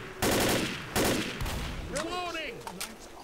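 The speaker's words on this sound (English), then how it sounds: "Ow, stop shooting at me." Gunfire in the Left 4 Dead co-op game, with two sharp loud bursts of rapid shots followed by a short squealing electronic effect and softer clatter.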